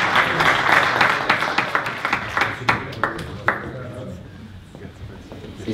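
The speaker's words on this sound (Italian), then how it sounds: "Stefano Fiore, un applauso." An audience applauds as former footballer Stefano Fiore is introduced, a thick patter of hands that starts full, then breaks into sparser, separate claps and fades toward the end.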